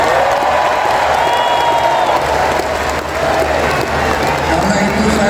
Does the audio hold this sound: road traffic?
no